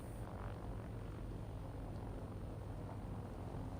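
Heavy bomber engines drone in a low, steady rumble in an air-combat video game, faint and continuous with no other sounds over it.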